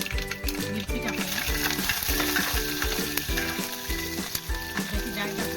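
Green chillies crackle and sizzle as they hit hot oil with mustard seeds while upma is prepared, a steady close frying hiss beneath rhythmic background music.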